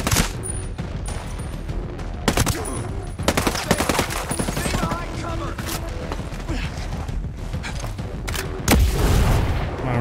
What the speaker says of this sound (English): Oh my god, that really is a Gatling gun, dude.